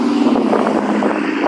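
Loud motor vehicles pass close by near a river, giving a steady, rushing roar that fills the whole clip with no speech.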